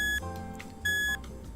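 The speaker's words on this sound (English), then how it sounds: "let's start this timer here, and that is a 15-minute interval timer" A 15-minute interval timer sounds two clear, close electronic beeps separated by a short gap, against a quiet background.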